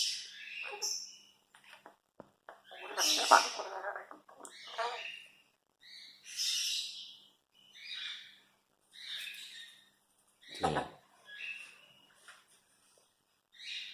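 A voice imitating the call of an Asian koel, giving a string of short high squawky whoops and chirps spaced over several seconds, close and fairly loud, with brief breathy bursts between.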